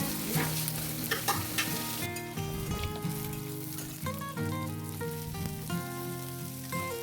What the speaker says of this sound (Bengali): এটাকে একটু কম আঁচে আস্তে আস্তে ভালো করে ভাজলে টেস্টটা বেশি ভালো হয়